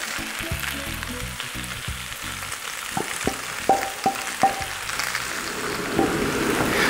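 Beef hits a hot wok for chow fun and sizzles loudly, with a few sharp clanks of a spatula tossing the meat before the frying settles into a steady crackle.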